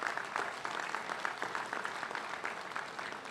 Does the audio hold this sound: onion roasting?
no